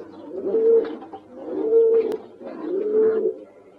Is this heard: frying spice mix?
no